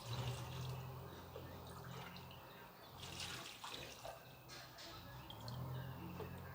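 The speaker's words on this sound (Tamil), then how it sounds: "நம்ம 2½ கப்பு தண்ணி ஊற்றிக்கலாம்." Water is poured from a cup into a pan holding crushed karuppatti palm jaggery while making ulundhu kali, giving a faint, continuous splashing trickle nearby with no voices.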